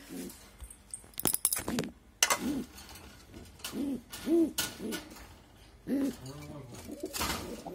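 Pigeons cooing on a rainy day, several soft rounded calls in short bursts close by, with faint rustling and clicks between them.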